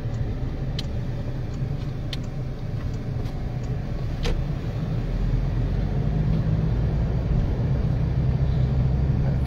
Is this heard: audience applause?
no